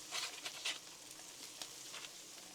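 Butter sizzles faintly on a Blackstone flat-top griddle with a soft, steady crackle and a few brighter spits and pops, close but quiet, with no talking.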